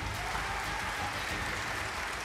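Applause from an audience after a comedy mimicry performance, a steady wash of clapping heard fairly faintly and continuously through the short stretch.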